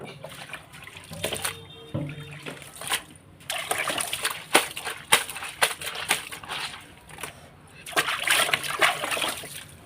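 Dirty hot water splashes and sloshes in repeated bursts while a kitchen chimney filter is scrubbed and washed, with brief pauses between the uneven, wet surges.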